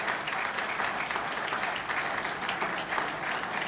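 An audience applauds award winners at a ceremony, producing dense, even clapping from many hands that holds steady throughout without breaks.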